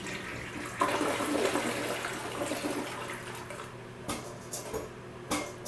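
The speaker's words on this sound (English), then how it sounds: "So essentially you got your toilet here, you flush it." A household toilet flushes nearby with a rushing swirl of water that fades into quieter trickles and a few small knocks as the tank starts to refill.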